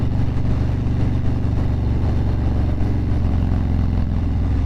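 A 2022 Harley-Davidson FXLRS ridden in traffic, its engine a continuous loud low rumble with steady throbbing pulses throughout, no voices over it.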